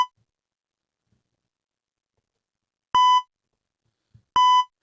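Two short, loud electronic beeps sound a second and a half apart, each a clean tone against near silence.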